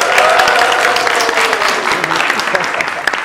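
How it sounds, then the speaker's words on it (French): A studio audience on a Rwandan television set applauds, with dense, steady clapping filling the whole stretch at close range and hardly easing off. "Applaudissez pour vous-même."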